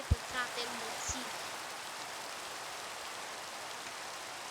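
Rain falling steadily in a village, a continuous soft hiss of drops on surfaces throughout, with a few faint low knocks near the start.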